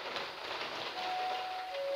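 Rain falling outdoors, a soft, even hiss of steady drops, faint and continuous with no voices.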